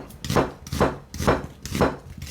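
An onion sliced into strips of moderate thickness on a cutting board, about five steady knife strokes at an even, unhurried rhythm, each a soft crunch ending in a dull tap, close up and with no voices.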